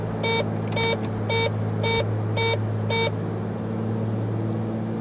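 Cockpit warning beeps in the X-Plane 11 flight simulator: six evenly spaced electronic beeps in quick succession over a steady low hum, which carries on alone after the beeps stop.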